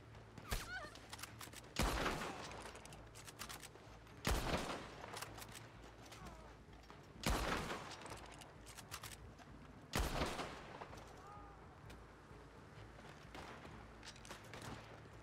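Single loud gunshots ring out in the Red Dead Online video game, about five spaced a few seconds apart, each with a decaying echo over a quiet outdoor background.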